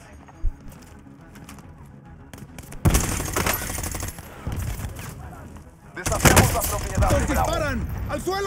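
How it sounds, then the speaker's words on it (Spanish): Rapid automatic gunfire from a Call of Duty Warzone match rattles in dense, loud bursts with overlapping shots and game effects, while shouted voices come and go through the firefight. "¡Al suelo! ¡Nos disparan!"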